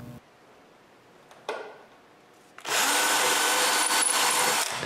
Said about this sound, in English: Drill some pilot holes.